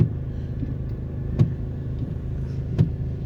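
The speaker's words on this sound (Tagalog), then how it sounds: "So, traffic. Traffic talaga." Slow road traffic near Burnham Park in Baguio City, heard as a steady, low engine rumble from a nearby vehicle, broken by two sharp clicks, with no talking.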